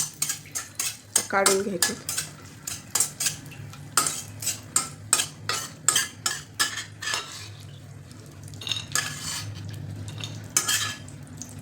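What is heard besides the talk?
stirring and roasting dry fruits in ghee in a pan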